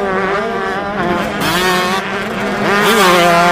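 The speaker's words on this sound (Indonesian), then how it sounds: "Ini adalah motor cross." A motocross motorbike engine roars steadily and loudly for several seconds, its pitch wavering up and down as it revs, with no talk over it.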